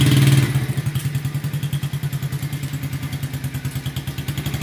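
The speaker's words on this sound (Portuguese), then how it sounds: "Vai lá devagarzinho, para a moto lá." A motorcycle engine starts with a burst, then settles into a rapid, throbbing idle, loud and close, chugging steadily without voices.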